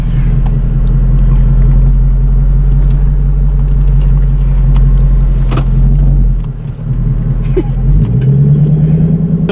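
Straight-piped V8 Genesis sedan exhaust rumbling loudly while driving, a deep steady drone that dips briefly then picks back up as the engine climbs again.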